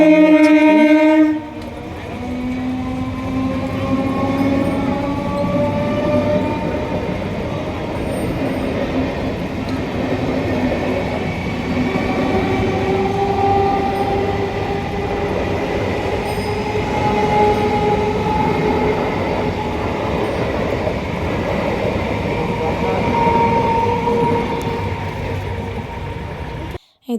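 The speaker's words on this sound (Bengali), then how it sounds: "এই দেখো, ডাউনে যাচ্ছে ট্রেন।" Train passing on the down line, a loud horn blast opening into a long sustained rumble of wheels and carriages rolling close by, with squealing tones drifting over the steady roar.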